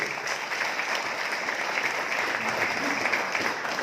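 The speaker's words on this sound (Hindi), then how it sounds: "उसके लिए जोरदार ताली चाहूंगा" An audience breaks into loud, sustained applause at a business celebration event, dense clapping that holds steady for the whole stretch without any voices on top.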